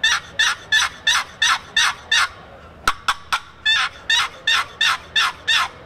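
Turkey box call of purple heart and cedar worked by hand, a clear run of sharp, evenly spaced yelps and cutting notes, loud and close, with a couple of brief clicks midway and no talk.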